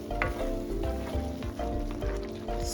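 Pasta cooking water poured into tomato sauce in a pan with eggplant and green pepper, giving a steady close sizzle and bubbling with faint stirring scrapes, with no talk.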